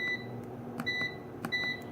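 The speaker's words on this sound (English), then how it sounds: "I'm just going to close my dehydrator here, turn it on, set the timer for 8 hours" Electronic beeps sound from a food dehydrator as it is switched on and its timer set, three sustained tones separated by button clicks over a faint hum, close by and without talk.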